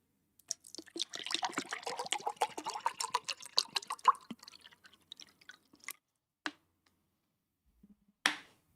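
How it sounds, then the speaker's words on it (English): Water sounds made for ASMR during a live stream: a dense run of close, crackling splashes and trickles, then a few isolated drips and small splashes after a pause, quiet and with no voice. "Water ASMR time."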